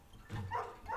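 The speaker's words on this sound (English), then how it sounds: "That's the dog that does not like us." A dog in the video game Night in the Woods lets out a couple of muffled, gruff barks at moderate volume against a quiet background.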